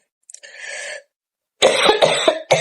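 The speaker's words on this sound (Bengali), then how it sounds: "কথা বলতে পারতেছি না, কাশি হইতেছে" A woman coughs, first with one short, raspy hack and then, after a brief silence, with a louder burst of several quick chesty coughs close to the mic.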